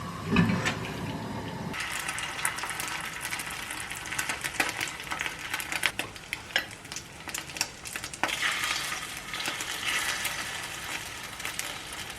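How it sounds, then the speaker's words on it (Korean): Oyster pancakes (guljeon) frying in a pan, a loud continuous sizzle and crackle of oil with bursts of spattering throughout, close up and without talk. "오늘 저녁은 굴전을 한번 만들어 보겠습니다."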